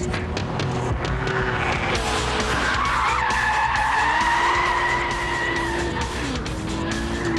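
An Audi RS4 slides through a handbrake turn, its tyres squealing in a long, loud, wavering skid over a steady engine roar.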